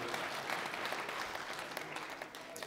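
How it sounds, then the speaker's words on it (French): Applause rings out at a 2016 New Year's wishes honours ceremony, a steady round of many hands clapping close by that carries on throughout and eases slightly toward the end. "Ils s'applaudissent en plus, ça va."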